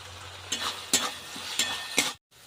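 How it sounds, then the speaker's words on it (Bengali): Ground spices with turmeric and salt frying in oil in a pan, a soft sizzle broken by several rhythmic scraping stirs of a spatula, close, with no talk. "এবার খুব ভালোভাবে ভেজে নেবো তেল ছাড়া অবধি"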